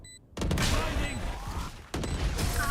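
Gunfire in a shooter video game: sharp, loud shots cut in abruptly over busy game sound with tonal effects and some voice underneath, in two bursts close together.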